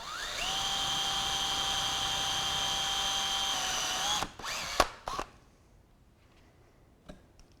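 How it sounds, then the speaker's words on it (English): A power drill bores a screw hole in a Mercedes-Benz door lever, running steadily at a high whine for about four seconds, then slowing and stopping, followed by a few sharp clicks and handling knocks and then near silence. "drill the hole for the screw with the supplied drill"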